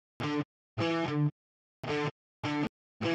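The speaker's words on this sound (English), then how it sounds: "The root bass line sounds like this" An electric guitar plays the root bass line of a riff on D, five short, separated notes in a choppy rhythm with clean silences between them.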